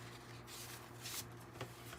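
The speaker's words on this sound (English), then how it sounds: "So I think that's a good enough shuffle." A deck of Journey of the Sacred Bee tarot cards is shuffled by hand, giving quiet, close riffling and sliding card sounds with a couple of light taps, over a faint steady hum.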